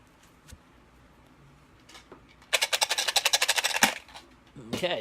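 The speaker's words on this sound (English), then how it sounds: "We're gonna shuffle them up." A deck of playing cards is riffle-shuffled close up in a cabin, giving a rapid burst of crisp flutters lasting over a second, ending in a snap, followed by a brief second riffle.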